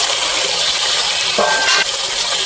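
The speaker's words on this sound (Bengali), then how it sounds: "এবারে প্রথমেই ভেজে রাখা ওলগুলো দিয়ে দেব" Fried elephant foot yam pieces go into a pot of chicken curry over a steady loud sizzle, with a brief clattering splash as the pieces land partway through.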